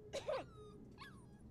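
A dog in the video game Life is Strange 2 whimpers in two short, high whiny bursts with a gap between them, close and fairly clear over a quiet background.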